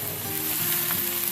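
Noodles frying in a pan with soy sauce, vinegar and black pepper, a loud continuous sizzle with stirring scrapes close by.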